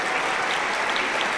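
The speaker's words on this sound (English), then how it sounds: "Let's have a round of applause for our wonderful accompanist, Mr. Ben Saylor." Continuous applause from the audience at a school winter concert, a dense, even wash of many hands clapping in a hall with no voices over it.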